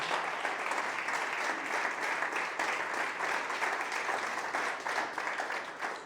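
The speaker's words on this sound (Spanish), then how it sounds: "Puedes darle una ofrenda de aplauso" A church congregation at a musicians' workshop bursts into sustained, dense applause, many hands clapping steadily at moderate loudness without a break.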